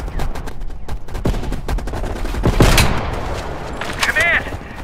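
Sniper rifle fire in Call of Duty Black Ops Cold War: sharp gunshots crack out at irregular intervals over a dense layer of battlefield gunfire and explosions. Voices talk over part of the clip.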